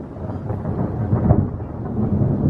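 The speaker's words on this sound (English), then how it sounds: "Did you just hear that? We've got thunder." Thunder rumbles during a late-summer thunderstorm under darkening clouds, a continuous deep rolling boom that swells in the middle, loud and enveloping, with no voices.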